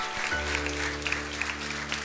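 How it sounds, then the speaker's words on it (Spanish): A church congregation claps together in a sustained round of applause during a service, with a low hum underneath and brief faint voices. "Vamos a darle un fuerte aplauso a Dios."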